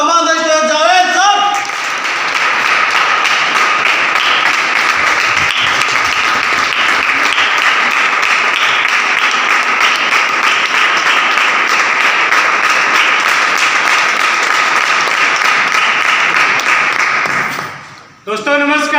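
An audience claps loudly and steadily for about fifteen seconds to welcome a speaker at a health awareness gathering, with dense sustained applause that fades out near the end.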